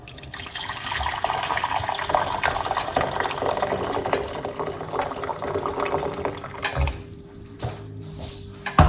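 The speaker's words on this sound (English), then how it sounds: "Hot water." Hot water poured from a kettle for a homemade health drink, a steady liquid stream running for several seconds before thinning into a few brief splashes and trickles at the end.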